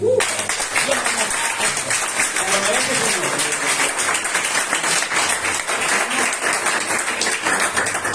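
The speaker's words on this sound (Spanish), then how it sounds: "Vamos a dar un aplauso a Jesús" Steady applause from a large church congregation, loud and continuous throughout, with voices and some tonal singing or calls mixed underneath.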